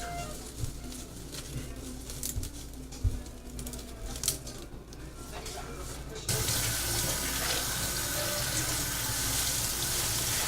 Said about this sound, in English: Make sure you wash your cilantro and tomatillos pretty well